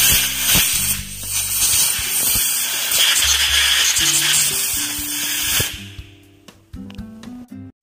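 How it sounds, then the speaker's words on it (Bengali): A compressed-air gun blasting dirt out of the carburetor canister filter pipe on a Honda Livo motorcycle: a loud, close, steady hiss of short spurts for several seconds, stopping abruptly, then a few faint metallic clicks and handling noises. "সেজন্য আমরা এটা একটু এয়ারগান দিয়ে আমরা ভালোভাবে এটা পরিষ্কার করে নিচ্ছি"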